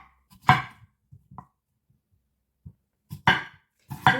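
Knife chopping a cucumber on a cutting board: a few separate crisp thuds with short pauses between them, close and clear against a quiet background.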